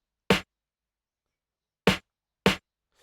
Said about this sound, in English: without the reverb, it would just sound like this.